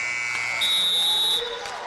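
A shrill electronic buzzer sounds at the end of a period in a college women's basketball game between San Diego and UNW, a steady tone lasting under a second over crowd noise and an announcer's voice.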